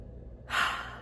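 A single slow, deep breath drawn in, soft and close, alone in a quiet room.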